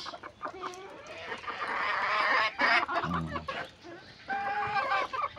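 Desi chickens crowding over freshly poured corn feed, clucking and squawking close by amid busy pecking and scratching, the calls rising and falling across the flock.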